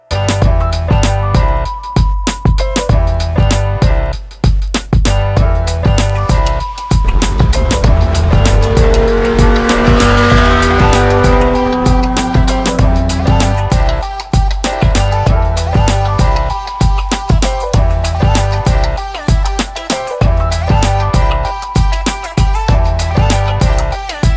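A car drives on the road through southern France toward Spain and Barcelona, its engine loud and close throughout, rising and falling through gear changes with steady tyre roar and no talking.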